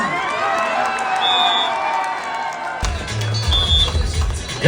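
Crowd cheering at a tug of war contest in Abu Dhabi, a sustained loud roar of voices with whoops and shouts, swelling again after a brief dip near the end.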